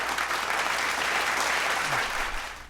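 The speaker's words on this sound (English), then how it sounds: "Please give our music education candidates a round of applause." An audience at a university education pinning ceremony applauds, a dense, steady wash of clapping that fades out at the end.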